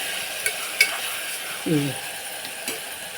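Rajma and drumstick curry stirred in a pan, a low bubbling sizzle with a few soft scrapes and clicks of the spoon, close and moderately quiet, with a brief vocal sound in the middle.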